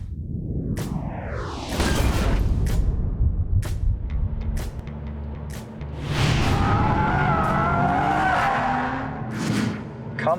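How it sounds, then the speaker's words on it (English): A race car drifts with squealing, skidding tires and a revving engine, several loud passes sweeping by close, with whooshes and faint voices in between at a drifting competition. "on race day, the drift was on."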